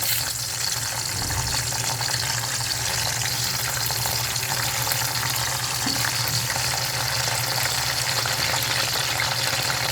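Eggplant and potato fry in oil with a loud, dense, unbroken sizzle that holds steady and close throughout, with no voices.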